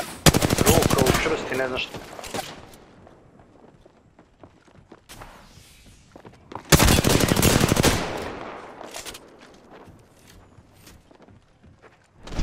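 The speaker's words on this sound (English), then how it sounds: "Shot fired, and they're hitting me." Bursts of automatic gunfire and rapid shots in the battle-royale shooter Apex Legends, loud and close in two heavy volleys with scattered single shots and footsteps between, under excited talk from a player.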